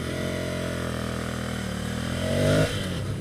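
A Ducati Scrambler Cafe Racer motorcycle engine hums steadily while riding at cruising speed, a loud continuous drone with a brief rise in revs near the end, no voices.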